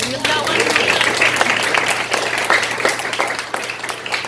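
Audience applause at an evening soiree, dense steady clapping that carries through the whole stretch at a fairly loud level, with a low hum underneath and a few voices mixed into the crowd.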